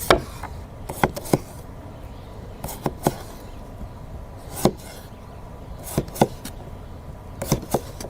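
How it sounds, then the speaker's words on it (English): A Maxa Blades kitchen knife chops through potato on a cutting board with sharp, close knocks, some single and some in quick pairs, spread across a quiet background. "we're going to start off by cutting the potato"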